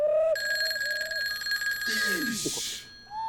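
A telephone rings with a steady electronic tone for over a second, then stops, followed by brief whooshing and chirping effects.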